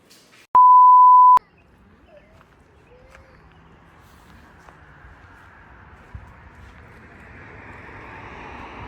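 A pay shower card reader at a campground gives one long steady electronic beep, then quiet wind and faint background noise follow.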